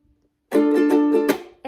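A ukulele is strummed in a down, up, mute pattern for a song: a short burst of bright, close strums with muted beats, starting after a moment of silence.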